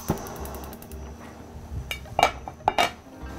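A metal cooking pot is set onto a kitchen stove while beef cooks, a few sharp clinks and knocks of metal against metal, close and spaced out, with no talking.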